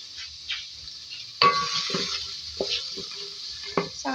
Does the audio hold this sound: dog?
no